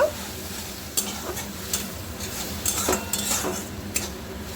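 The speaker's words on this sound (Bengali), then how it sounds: "এবার আমি মশলাটা কষিয়ে নেব" A utensil scrapes and stirs spice paste frying in a pan for egg curry with cauliflower and long beans, irregular metallic clinks and scrapes over a soft continuous sizzle, close and moderately quiet.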